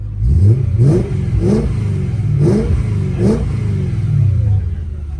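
A Mercedes C63 AMG (W204) naturally aspirated V8 engine revs repeatedly in loud, close bursts, pitch rising and falling in a regular rhythm with a deep rumble underneath.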